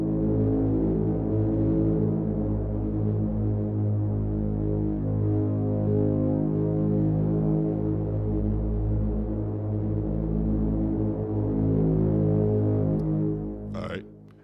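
Omnisphere software synth tone holding a sustained, buzzing, harmonically rich note that drifts sharp and settles back into tune, heard alone and steady throughout before a brief click at the end.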